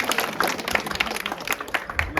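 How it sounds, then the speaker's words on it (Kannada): A village crowd claps hard and fast at an outdoor gathering, producing a dense, sharp burst of overlapping handclaps with loud individual slaps poking through and no talk. "ಚಪ್ಪಾಳೆ ಹೊಡೆದ್ರೆ ರಕ್ತ ಸಂಚಲನ ಆಗ್ಬೇಕು"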